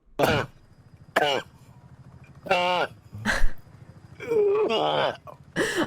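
Several sharp, hoarse coughs in short bursts spaced a second or two apart, close by, with quiet breathing between them.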